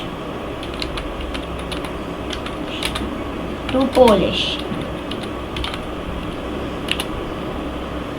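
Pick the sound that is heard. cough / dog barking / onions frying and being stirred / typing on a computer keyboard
typing on a computer keyboard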